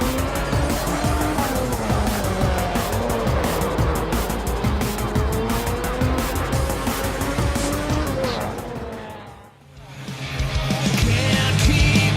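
Race cars in a racing video game roar continuously with screeching tire squeal and skidding, loud and dense throughout, briefly dipping near the end before the engine and tire noise swell back.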